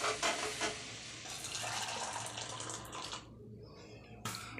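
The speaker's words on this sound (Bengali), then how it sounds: "এই ফোটান্ত জলটা একটু ঢেলে রাখবো" Boiling water poured from a pot into a container in a home kitchen during winter cooking, a steady close splashing pour that thins out before a brief final trickle.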